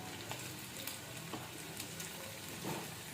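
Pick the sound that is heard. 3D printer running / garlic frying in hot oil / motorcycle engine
garlic frying in hot oil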